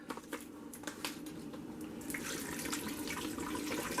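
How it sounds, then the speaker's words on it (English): Water runs steadily from a tap into a pot for chicken, bean and barley soup on a lit stove, a continuous close splashing hiss that grows a little fuller toward the end, with no talking. "Now I'm going to need to add a little bit of water."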